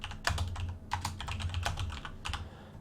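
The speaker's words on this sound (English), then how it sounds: "Apologise for the heavy typing." A computer keyboard takes heavy, fast typing, its keys striking hard in clustered bursts of close, loud clacks with brief pauses between runs.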